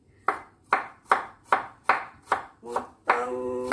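A knife chops onion finely on a board for pempek adaan, seven sharp, evenly spaced strikes up close, followed by a sustained ringing tone at the end.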